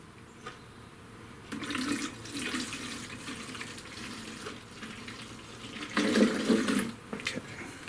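Liquid is poured through a funnel back into a 1937 Briggs and Stratton Model A engine, a steady trickling pour with two louder gushing bursts near the start and toward the end.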